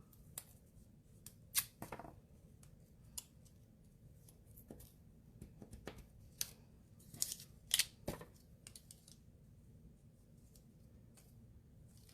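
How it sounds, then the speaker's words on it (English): Scissors fussy cut paper to a shaped edge, making a series of small, sharp, quiet snips that are spaced irregularly against a soft background, with no voices. "I'm gonna have to fussy cut, I think"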